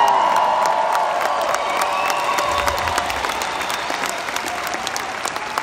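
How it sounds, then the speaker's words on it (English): Steady applause from a convention audience, a dense wash of clapping with a few scattered whoops and cheers, holding strong throughout and easing slightly toward the end. "I should get a bigger applause than that."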